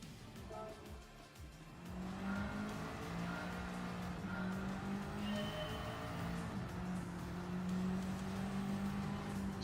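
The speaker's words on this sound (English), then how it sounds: "there's a dirt version of this track, and I'm using a rally car" A rally car's engine in the Gran Turismo racing game, driven on a tarmac track, holding a steady droning rev with gear-shift changes in pitch and faint tire noise, continuous and fairly loud throughout, with no talk.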